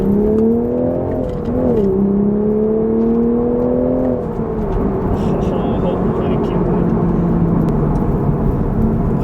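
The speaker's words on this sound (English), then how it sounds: "second gear pull" A manual MK5 Toyota Supra accelerates hard in second gear, its loud, close engine drone climbing steadily in pitch, then briefly dipping and building again over constant road and wind roar.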